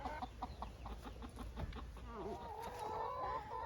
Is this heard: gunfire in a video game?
no